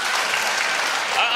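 A studio audience on the Malayalam comedy talk show Badai Bungalow claps in a brief, dense burst of loud applause.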